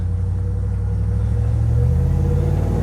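A supercharged Chevrolet Suburban engine runs under load while driving, a loud, close, steady low rumble that shifts pitch partway through, probably at a gear change, with no talk.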